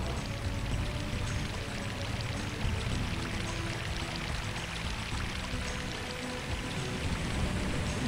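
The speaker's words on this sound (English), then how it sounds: "The water. Going behind a waterfall." A waterfall in the Unreal video game pours with a steady, broad rushing hiss that stays constant and fairly loud throughout with no voices over it.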